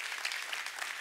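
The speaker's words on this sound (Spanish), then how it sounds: "Un aplauso para la señora Estela de Carlotto." Steady applause from an audience honoring Estela de Carlotto at a ministry talk, a dense continuous clatter of clapping hands lasting the whole moment, fairly close and even in loudness.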